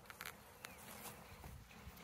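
Bees buzzing around the entrance of a hive in a garden on an afternoon, a steady close insect drone with several individual bees passing near and away.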